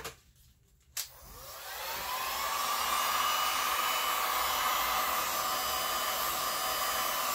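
A hair dryer blows across wet resin art: a click, then a loud, steady, close whoosh that holds unbroken to the end, with no voices.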